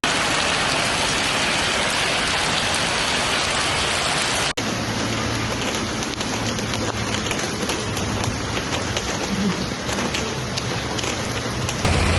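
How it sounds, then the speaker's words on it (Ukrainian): Heavy summer downpour in the city of Zhytomyr, a steady dense roar of rain drumming on surfaces, loud and continuous throughout with a brief break partway through. "Літня злива, повалені дерева та річки на дорогах."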